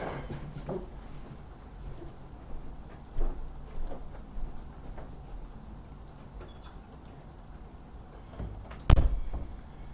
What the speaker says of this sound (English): Really want to shut my door.